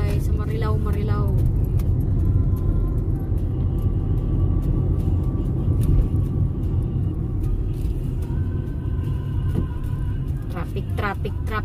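Steady road traffic rumbles along an expressway, a constant low engine drone with occasional passing vehicles, while people talk over it inside a car.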